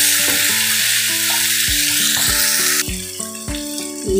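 Lamb meat with chickpeas sizzles loudly while being sautéed in a pan, a steady bright frying hiss with occasional stirring clatter, over background music.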